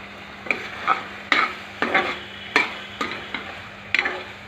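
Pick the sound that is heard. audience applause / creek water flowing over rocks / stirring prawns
stirring prawns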